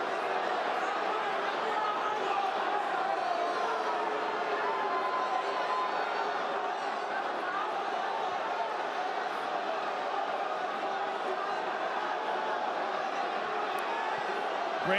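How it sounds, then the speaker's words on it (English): A dense arena crowd at a UFC flyweight title rematch keeps up a continuous, loud roar of booing and shouting for the whole stretch, with commentators talking underneath. "How can this crowd boo this?"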